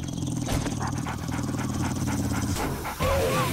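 A dog panting in a zombie survival video game, quick rhythmic breaths close up over a steady game soundscape, ending with a short squeaky whimper-like sound.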